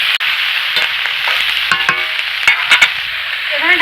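Cabbage is stirred in a hot frying pan, a close sizzling hiss broken by a few sharp scraping and clanking strokes of the spatula.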